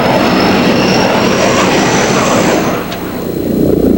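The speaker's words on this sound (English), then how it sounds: "The F-117A stealth fighter, sometimes called the Nighthawk, the Black Jet, at the Dayton International Air Show." An F-117A Nighthawk stealth jet passes at the Dayton International Air Show, a loud, steady broadband jet roar filling the air before easing slightly near the end as it moves off.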